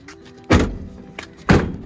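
On a 12-passenger Ford Transit T-350 XLT van being worked on, the door gives two solid close thunks about a second apart, with a faint knock between them.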